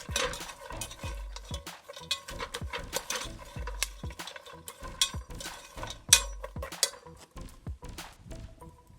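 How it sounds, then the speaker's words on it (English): Raw cocoa beans being stirred as they roast in a pot over a fire, making repeated scraping, rattling strokes in an uneven rhythm, close and fairly loud with no talk. "Then you stir it, continue to stir it so that they will roast evenly."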